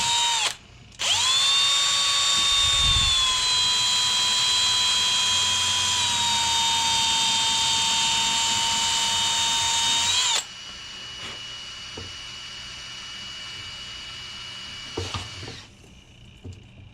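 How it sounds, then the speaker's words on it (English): An electric drill whines at steady high speed for about ten seconds during a window regulator repair on a 2-door Jeep Cherokee XJ, starting abruptly and cutting off, followed by quieter handling noises and a brief second burst. "Daddy's using your drill right now?"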